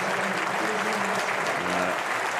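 A stadium crowd at a Championship football match between Derby County and Blackburn Rovers applauds a young player being substituted, loud, continuous clapping with a faint murmur of voices underneath.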